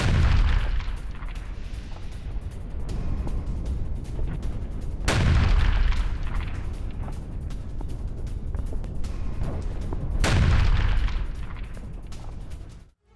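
Explosions and gunfire from a Russian drone attack on a Ukrainian tank: a continuous loud rumbling roar broken by two sharp heavy blasts several seconds apart, each followed by a booming decay, with no talk.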